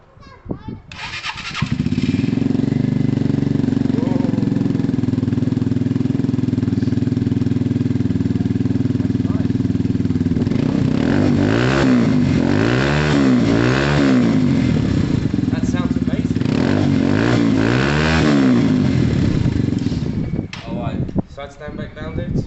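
A Yamaha TMAX 500 scooter engine starts and holds a steady close idle, then revs in several rising and falling blips before settling and shutting off.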